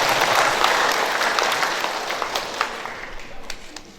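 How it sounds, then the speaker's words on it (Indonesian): An audience at a church district gathering gives a round of applause for a pastor, dense clapping that is strongest at first and thins out over a few seconds. "saya minta ada tepuk tangan untuk Pak Pendeta Tulus"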